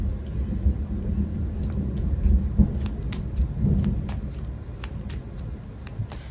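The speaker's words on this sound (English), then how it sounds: "the storm, the thunder right now too" Thunder rumbles low and continuously during a storm, with a few swelling surges, while sharp crackles of rain or drops tick across it. Nobody talks.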